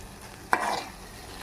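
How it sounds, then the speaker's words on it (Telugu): Gongura chutney stirred in a pan of hot oil, with a single scrape of the spoon over a soft steady sizzle, close and fairly quiet, no voices. "కొద్దిగా నూనెలో మగ్గనిద్దాము."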